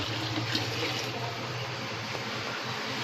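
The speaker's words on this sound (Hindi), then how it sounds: "1 जग पानी मैं इसके अंदर डालूँगी। और ये गया जी 1 जग पानी इसके अंदर पूरा।" Water poured from a jug into a thin gram flour batter for kadhi pakora, a steady, continuous liquid rush held close and fairly loud from start to finish with no talk.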